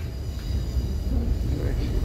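Suburban train rumbling into a station platform on a line serving Beenleigh, Gold Coast and Cleveland connections; steady low wheel and carriage roar from inside the train, with a faint squeal and a voice talking over it.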